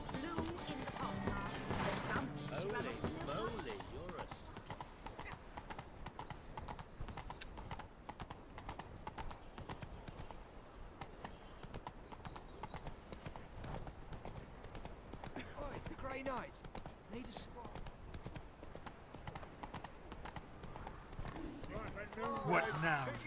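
A horse's hooves clip-clop steadily on hard ground in the video game The Witcher 3, with occasional mechanical clanks and voices speaking over the continuous footfalls.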